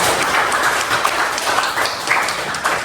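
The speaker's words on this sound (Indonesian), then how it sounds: "tepuk tangan buat temannya yang bertiga" A classroom group claps for three classmates, a dense, steady patter of many hands lasting the whole stretch, fairly loud and close with no talk over it.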